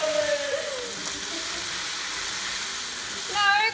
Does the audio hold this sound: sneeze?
no